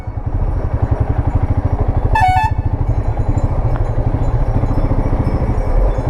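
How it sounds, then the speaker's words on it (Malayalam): A loud lorry horn blasts once, briefly, over a steady rumble of engines and highway road noise. "ലോറിക്കാരൻ ഹോൺ അടിച്ചത്"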